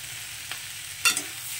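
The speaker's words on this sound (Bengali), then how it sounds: "এবার এখানে দেখুন আমি মিডিয়াম সাইজের দুটো পেঁয়াজ কুচি লম্বা লম্বা করে নিয়েছি, তো সেটাকেও দিয়ে দিচ্ছি।" Long-sliced onions drop into a pan of frying potatoes, giving a steady low sizzle with a brief louder crackle and stir about two-thirds through; no voices.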